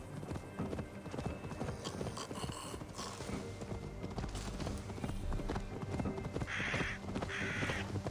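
Horse hooves clip-clop steadily on the ground in Assassin's Creed Valhalla, a continuous rhythmic trot heard up close with crows cawing and ambient game sounds mixed in.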